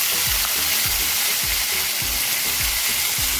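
Ginger paste sizzling in hot oil for a rohu fish korma, a steady loud frying hiss with repeated low scraping stirs of a spoon against the pan, no voices.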